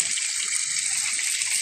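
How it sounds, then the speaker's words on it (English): An outdoor fountain runs steadily, its water splashing and trickling in a continuous bright wash with no pauses, close by and fairly loud. "the fountain has been off, so it looks like they finally turned it on"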